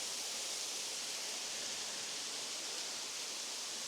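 A waterfall in an Ayrshire forest pours in a constant broad hiss, faint and unbroken from start to finish, with no voices.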